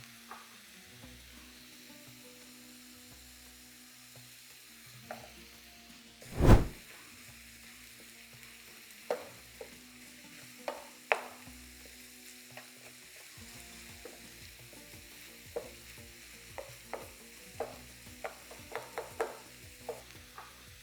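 Ground beef and mushrooms fry in a pan with a soft continuous sizzle, punctuated by scattered stirring scrapes and clacks of a utensil, one louder thump early on; no talking.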